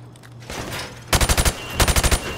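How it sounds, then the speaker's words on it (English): Automatic rifle fire aimed at targets behind plywood in the Modern Warfare Remastered video game, two quick bursts of about five loud, evenly spaced shots each, with a short pause between the bursts. "I want you to shoot the targets through the wood"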